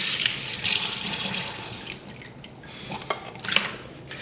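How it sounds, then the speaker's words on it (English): A thin stream of tap water runs over a whole crab as it is rinsed in a sink, washing crab butter and debris from the body cavity, with splashing and dripping close by and no voices. "turn on a little bit of running water, just a little bit quickly if we can, to make sure we get all that crab butter and any debris out of the cavity"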